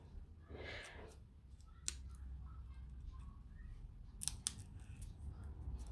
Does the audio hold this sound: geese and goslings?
no